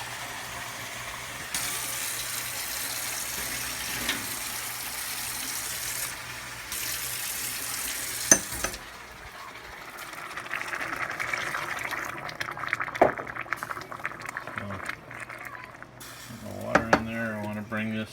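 Three cups of water pour steadily into a pan of rice for arroz con pollo for several seconds, a continuous liquid rush with a few clinks and small knocks toward the end.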